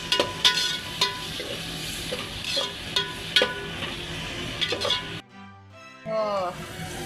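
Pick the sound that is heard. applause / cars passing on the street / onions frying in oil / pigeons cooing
onions frying in oil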